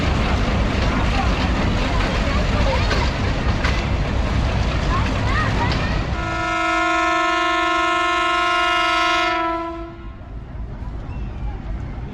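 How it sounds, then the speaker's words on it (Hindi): A loud train horn sounds in a sustained initial departure blast after a stretch of rumbling station noise at a Pakistan Railways station, then cuts off as the engine hum continues. "इनिशियल डिपार्चर हॉर्न, दोनों ही हॉर्न आपने सुन लिए"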